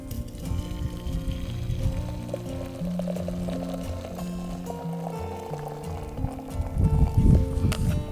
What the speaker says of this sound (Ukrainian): Додаємо заварку в заварник. Ось. І заливаємо кип'ятком.